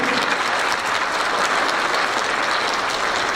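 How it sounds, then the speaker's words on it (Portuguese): A church congregation clapping steadily at Sunday Mass, a warm, continuous round of applause with no talking over it. "Vamos dar uma salva de palmas então a essa família."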